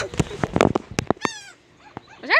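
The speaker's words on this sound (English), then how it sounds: "We got a billion seagulls here." A flock of seagulls calls in rising, squealing cries while being fed bread outdoors; short calls rise above nearby voices and rustling, with a louder cluster at the end.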